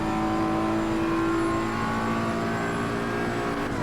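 Race car engine in the sim racing game Assetto Corsa Competizione, a continuous loud tonal drone with shifting pitch as the car accelerates, steady throughout with no voices.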